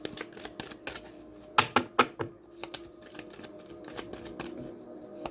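Tarot cards being shuffled by hand, a run of crisp papery riffles and taps with a few louder snapping bursts in the middle, close and clear with no talking.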